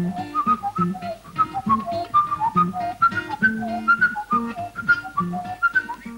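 A man whistles the Carnevale di Venezia melody over plucked guitar accompaniment in a televised amateur talent show. The whistle is bright, agile and close, and the guitar keeps a steady rhythm beneath it.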